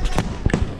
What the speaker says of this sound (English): Oh, fireworks are starting.